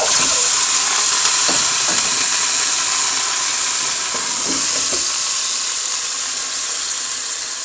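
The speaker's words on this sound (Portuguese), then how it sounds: "Daí a gente coloca o frango ali, ó, e deixa ele dar uma fritada" Chicken caramelizing in sugar frying in a pan on low heat, a steady loud sizzle and hiss throughout with faint stirring scrapes, no talking.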